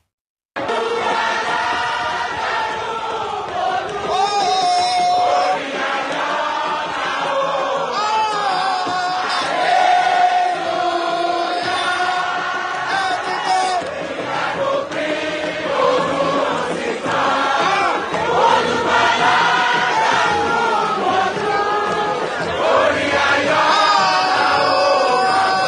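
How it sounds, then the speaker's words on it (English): A large crowd celebrates Governor Adeleke's re-election in Osun, with many voices singing and chanting together in a loud, continuous, jubilant roar that swells and ebbs without pause. "the crowd's pure joy is palpable, with people singing, dancing in honor of the governor's re-election"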